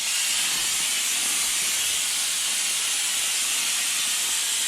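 Air-powered vacuum bleeder drawing brake fluid from a brake line, a steady, loud broadband hiss of compressed air that runs unbroken throughout with no voices.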